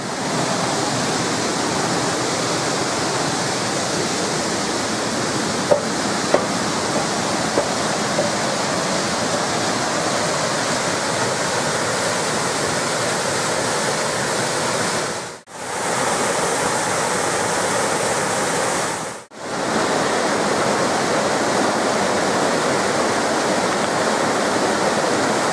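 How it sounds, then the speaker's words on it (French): Small mountain torrent in a national park, shallow and not carrying much water: a steady, close, full rush of flowing water that continues unbroken apart from two brief dropouts. "superbe petit torrent. Il n'y a pas énormément d'eau"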